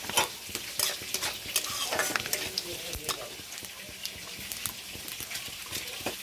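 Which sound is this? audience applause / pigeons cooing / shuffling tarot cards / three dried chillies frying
three dried chillies frying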